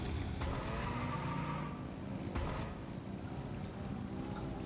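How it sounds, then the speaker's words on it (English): Revving vehicle engines in the game Genshin Impact, a steady mid-level motor drone with a couple of brief surges, heard alone without talking. "Rev the engines!"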